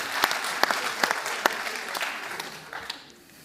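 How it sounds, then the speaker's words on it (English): Audience applause at a panel discussion on AI skills, starting with a few sharp claps that swell into a moderate round before fading out, heard fairly close in an indoor hall. "Well, big applause."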